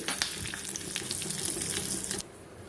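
A tempering of urad dal, mustard seeds, dried red chilli and curry leaves sizzles and crackles in hot oil, loud and continuous, with a sudden drop to a quieter hiss near the end.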